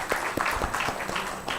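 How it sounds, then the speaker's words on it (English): An audience at a literature and art festival session applauds, a short burst of dense, steady clapping from a crowd. "Please welcome him with a round of applause"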